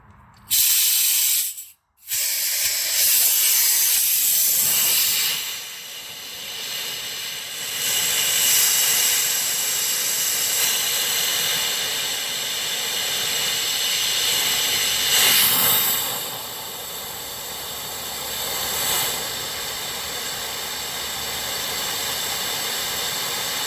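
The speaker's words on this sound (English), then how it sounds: "we're going to take our compressed air and we're going to apply the air to our system to evacuate the remaining fluid in the system" Compressed air blasts through the power steering system of a Dodge Grand Caravan to push out the leftover fluid, a loud continuous hissing spray with a brief break near the start and slight swells, close to the microphone.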